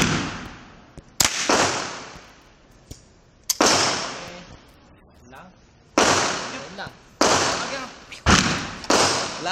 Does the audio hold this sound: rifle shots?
yes